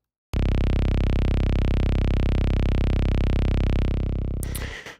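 Synth patch run through distortion and a compressor, a thick, loud, static buzzing drone held for about four seconds before cutting off with a brief crackle of noise.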